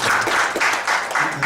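A meeting audience at a society's annual general assembly claps together, a dense burst of applause heard close and loud, with a faint voice underneath.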